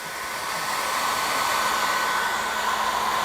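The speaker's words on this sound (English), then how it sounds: "Any hairdryer will work. I prefer a low heat as opposed to a high heat" Hair dryer running on low heat while a dog is groomed, a loud, steady whooshing drone of blown air that holds constant throughout with no talking.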